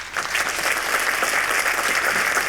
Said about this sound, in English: Let's give a round of applause to all of our volunteers.